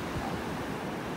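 Gulf of Mexico surf rolls in at a beach in North Naples, Florida, as a steady broadband wash of waves mixed with some wind buffeting at the microphone.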